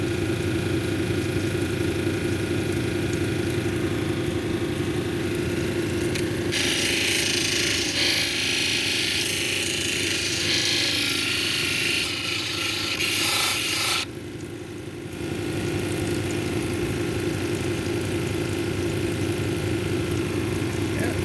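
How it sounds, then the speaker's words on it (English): An unakite cabochon pressed against a spinning 600 grit lapidary wheel: a constant motor hum with a gritty rubbing hiss that swells brighter and harsher for several seconds midway, then settles back. "So even on the 600 grit wheel, we're starting to develop a shine here."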